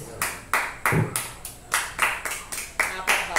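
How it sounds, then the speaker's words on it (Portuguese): A church congregation claps in a series of separate bursts, roughly eight rhythmic waves of applause a few tenths of a second apart, close and fairly loud, with a voice speaking through part of it. "E aplauda ao Senhor Jesus pela sua palavra."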